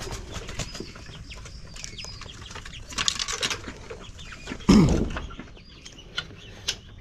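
Pet chickens and chicks on a Philippine farm among papaya plants, with scattered soft clucks and peeps, a few wing flutters and one louder squawk, heard close by over outdoor background noise.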